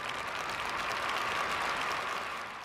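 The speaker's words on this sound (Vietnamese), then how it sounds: "Chúng ta cho tràng pháo tay chào đón gia đình chị Vương Kim Thành và anh Lê Quốc Cường." A studio audience on a Vietnamese TV show applauds to welcome a family, a steady even wash of clapping that stays loud throughout and fades slightly at the close.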